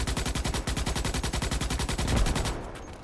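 Rapid, sustained machine gun fire from enemies in the sci-fi shooter game Starship Troopers: Extermination, a dense stream of loud shots for over two seconds before cutting off into a brief fading tail.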